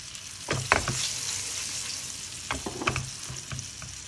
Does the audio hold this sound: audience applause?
no